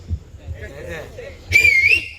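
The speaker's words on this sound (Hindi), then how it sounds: "मैंने एक जगह पे सीटी बजाए, पूछो कैसे?" A person whistles a short, bright, wavering tone, loud and close, after a moment of low murmuring and breathy sounds.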